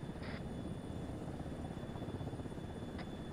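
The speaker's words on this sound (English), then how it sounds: "Both engines idling." Steady broadband whine and rumble of an H-60 helicopter mod in a flight simulation game, both engines idling, a constant even drone with two brief high tones near the start and end, no talking.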